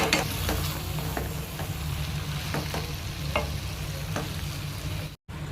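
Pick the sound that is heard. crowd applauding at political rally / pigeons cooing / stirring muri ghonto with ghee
stirring muri ghonto with ghee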